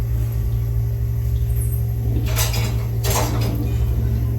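Pots, a pressure cooker and dishes clatter in a home kitchen: a couple of close metallic clinking bursts in the middle over a steady low hum, with no talking.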